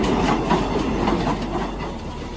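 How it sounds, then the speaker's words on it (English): A hybrid diesel-electric train runs past close by, giving a steady rumbling roar with soft rail clatter that stays constant through the short stretch. "A train that uses more than one form of power, such as combining diesel and electric propulsion."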